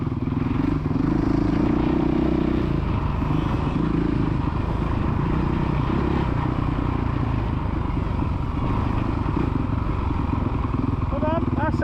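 Motocross bike engine on a dirt track at a kids' MX meet, droning loudly and steadily with continuous buzzing throughout, while a voice speaks over it.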